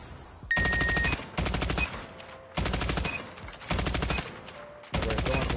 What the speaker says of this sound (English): we're going into burst fire. Let's break these targets.